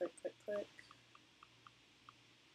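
Computer mouse clicked repeatedly while editing in Photoshop: a few quick clicks close together at the start, then faint, evenly spaced light ticks in a quiet room.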